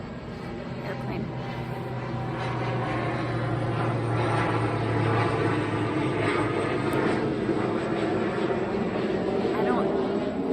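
An airplane drones overhead, its engine noise swelling gradually and holding steady for several seconds, loud against a faint background with a person talking over it.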